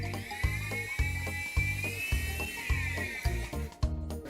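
An AirFun AF610 3-channel RC helicopter spins up indoors with a high whining rotor and motor tone, punctuated by regular rhythmic thumps, fairly faint and without talk.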